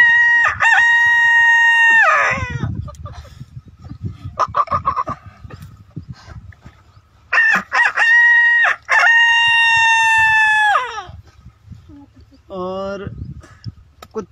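A voice mimics a rooster crowing, loud and close, with two long cock-a-doodle-doo calls and a shorter one, separated by lower chatter.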